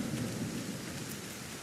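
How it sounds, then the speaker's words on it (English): Video game rainstorm, a dense even hiss of rain with a low rumble of thunder underneath, quiet and continuous for a short moment. "It's raining cats and dogs here."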